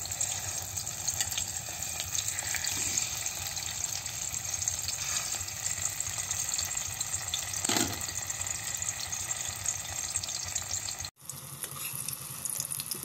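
Pork frying in a pan for string beans with tofu, a steady dense sizzle that runs without pause, close and moderately loud, then cuts off abruptly near the end.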